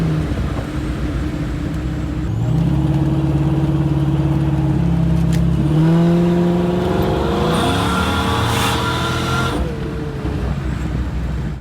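A supercharged automatic Foxbody's V8 rumbles close and loud while cruising, then swells into a rising rev with a whining, climbing pitch before settling back down.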